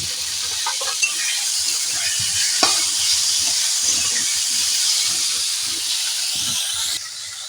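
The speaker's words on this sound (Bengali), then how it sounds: "এর মধ্যে দিয়ে দেব আমি পাঁচটি কাঁচা লঙ্কা" Five green chillies added to hot oil with mango and tomato for a rohu fish curry, giving a loud, steady sizzle and hiss with a few soft stirring knocks and no talking.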